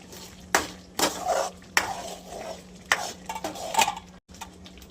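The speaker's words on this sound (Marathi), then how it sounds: "मस्त शिजवून किंवा परतवून घेते ही मसाला" Paneer tikka masala cooking in a pan, with a run of sharp metallic scrapes and clanks of a utensil against the pan over a low steady hum, close and fairly loud.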